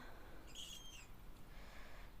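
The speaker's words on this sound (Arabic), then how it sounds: "كتسمعي غير الزوج، الطيور، صوت العصافير، وهذاك البط كيغوت." Small birds and sparrows chirp outdoors in the quiet countryside, a brief bright burst of calls in the first second over steady faint ambient noise.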